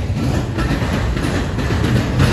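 A CSX freight train doing switching moves gives off a loud, continuous low rumble and rolling rail noise for a short stretch, close by, with no voices.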